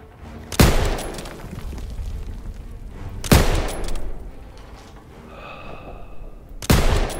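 Three sharp bursts of machine gun fire from Call of Duty: WWII crack out at irregular intervals over a steady background din, with a brief whining tone in between.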